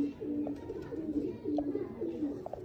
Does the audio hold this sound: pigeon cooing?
yes